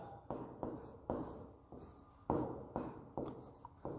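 Pen writing by hand on paper during a maths lesson, with a series of close scratchy strokes coming in short bursts, each starting sharply and fading, in an otherwise quiet room.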